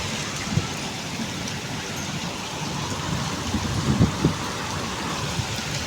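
Steady, dense rain with hail patters continuously, with a few louder splashes and drips standing out near the end, close by.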